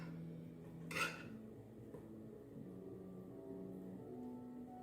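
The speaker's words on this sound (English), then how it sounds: "open up the pressure cooker to check the consistency of the oxtail" A pressure cooker holding oxtail stew is opened with a single sharp metallic clank of the lid, followed by a low, steady kitchen hum and faint rattles.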